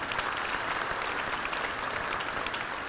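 Dense, even applause from an audience at a civic center event, a continuous wash of many hands clapping at moderate distance with no break.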